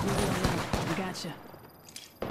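Rapid bursts of gunfire from the Apex Legends video game crack in a tight cluster, then thin out to scattered shots while a voice talks over the action.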